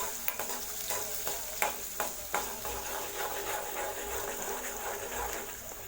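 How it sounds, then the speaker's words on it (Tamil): Onions sauté in a pan with a little asafoetida for paruppu kadaiyal, a continuous close sizzle with the quick scrape and tap of a stirring spoon, strongest in the first half. "வெங்காயத்தை நல்லா வதக்கி விட்டுக்கோங்க."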